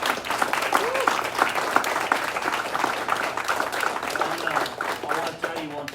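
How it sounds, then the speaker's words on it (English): Audience applause for front-line leaders at a martial arts rank review and first black belt ceremony, sustained clapping from a crowd with some cheering voices rising over it. "the leaders on this front line just certainly deserve another round of applause"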